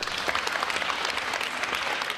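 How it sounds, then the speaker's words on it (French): Applause for Gisèle Pelicot outside a courtroom, a dense, continuous wash of many hands clapping at once, fairly loud and unbroken through the brief stretch. "Des applaudissements pour Gisèle Pellicot."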